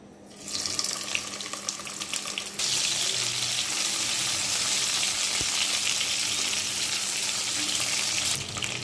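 A bay leaf and spices fry in oil in a pan, and then chopped tomato goes in. A constant close sizzle jumps louder once the tomato is added and stays strong and even, with a single sharp tap partway through.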